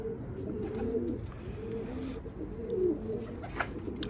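Homing pigeons coo in low, soft, repeated rolling phrases close by, a steady murmur of several birds overlapping throughout.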